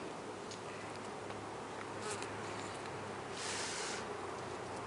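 Honeybees buzz around an open hive frame, a steady close swarm hum with a few individual bees briefly swelling louder as they pass near, and no talk.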